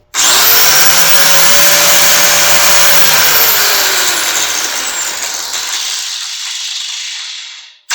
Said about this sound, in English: what we just had there is the angle grinder is more of a high-pitched noise